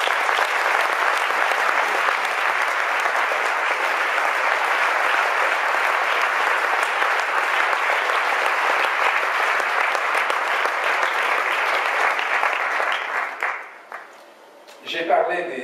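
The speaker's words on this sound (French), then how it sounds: "je vous invite à applaudir les artisans de ce succès" Dense, sustained applause from an audience at a film festival awards ceremony, loud and continuous for about thirteen seconds before tapering off into quieter room sound and a few stray noises.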